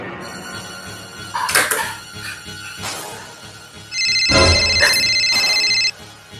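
A phone ringtone rings out in a steady, tonal burst lasting about two seconds, loud and near, after scattered knocks and clatter in a room.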